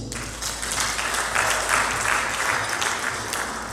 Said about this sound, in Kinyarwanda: Bongere bakomere amashyi.